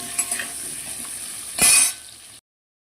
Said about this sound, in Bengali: এই তেলের মধ্যেই আমি আলুগুলো ভেজে নেবো